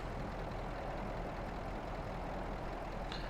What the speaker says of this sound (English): So I can crank the truck noise up or down.